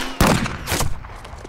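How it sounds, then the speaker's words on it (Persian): A single sharp rifle shot cracks out loud and close during military shooting practice, followed by a fainter second report and a lingering echo. "اگه تو شلیک نکردی پس کی شلیک کرد؟"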